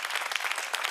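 A studio audience at a Greek TV talk show applauds in a brief, dense burst of clapping.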